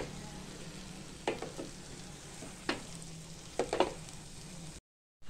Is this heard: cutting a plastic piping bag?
no